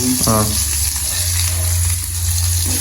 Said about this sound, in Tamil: வெங்காயம், உள்ளியை போடும் முதல்ல.